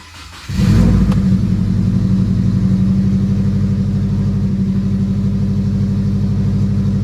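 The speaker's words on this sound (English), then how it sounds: "Hopefully she'll start up nice." A Subaru WRX hatch with a newly installed FP Red turbo in the stock location cranks and fires, then settles into a loud, steady, rumbling idle close by.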